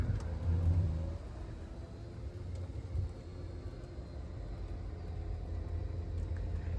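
Power-folding rear seats in a Ford Expedition EL XLT 4WD whir steadily as the motor runs, a continuous low mechanical drone close by with a slight swell in the first second and no talking.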